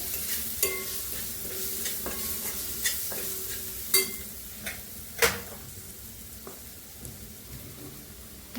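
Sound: sautéing whole masoor lentils with snake gourd

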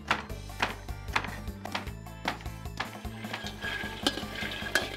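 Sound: dry-roasting peanuts in a pan

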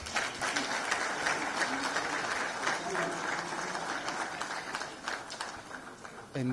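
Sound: conference audience applause

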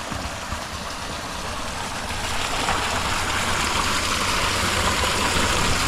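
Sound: motor-driven pump pumping water for a borehole

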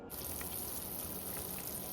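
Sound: water boiling in a pot for pea pulao

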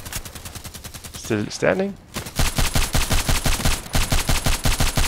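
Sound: DT SRS mk.2 rifle gunshots in video game Contract Wars

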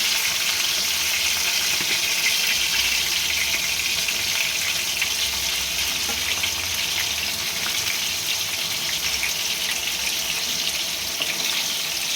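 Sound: frying chicken in a pan

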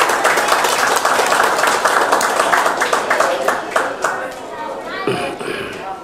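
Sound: applause

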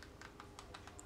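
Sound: typing on I8 mini wireless keyboard

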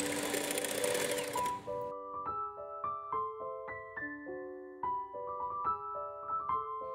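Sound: electric mixer whipping cream

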